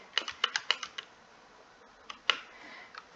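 A computer keyboard clicks during a game of Stumble Guys, with a quick burst of sharp keystrokes followed by a few scattered taps, close and with no one speaking.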